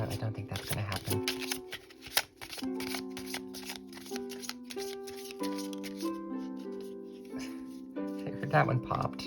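Oracle cards being shuffled during a tarot reading, a rapid crackling riffle of card edges over a background of steady, sustained music, close and fairly quiet.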